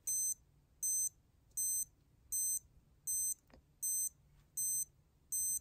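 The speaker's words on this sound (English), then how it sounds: "Here, I'll show you what a minute repeater does." Breitling Aerospace minute repeater watch sounding the time as eight evenly spaced high electronic beeps, clear and close, with a brief click partway through and no talk.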